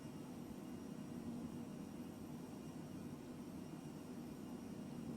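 Jet engines hum on an Embraer Phenom 100 light business jet cruising at around 200 knots in Microsoft Flight Simulator 2020, a faint, steady, even drone with a soft hiss and no voices.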